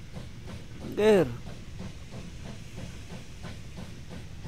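A coal train in the video game Wobbly Life rolls along with a steady hissing rumble, and a short whistle blast sounds early on. A voice speaks briefly.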